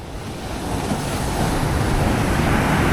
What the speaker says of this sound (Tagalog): yung gaano kalakas yung alon dito.